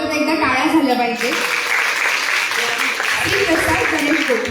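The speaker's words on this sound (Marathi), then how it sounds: "वीणा गोखले मॅडम करता एकदा टाळ्या झाल्या पाहिजे" At a music concert stage event, a voice speaks briefly before the audience breaks into loud, sustained applause that fills the rest of the moment.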